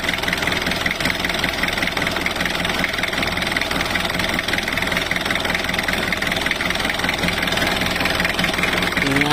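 An overhauled engine runs at a steady idle, loud and close, with a continuous rhythmic knocking throb and a metallic vibration that holds unchanged throughout.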